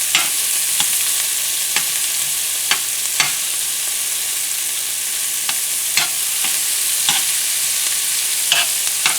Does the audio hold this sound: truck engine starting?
no